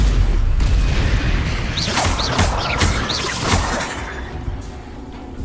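Video game spell effects for Confringo and Incendio, a string of booming blasts and crashing impacts with whooshing swept tones, loud at first and gradually easing off.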